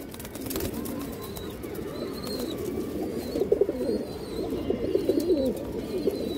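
Small-headed pigeons coo in soft, repeated low calls close by, with faint background noise and no speech.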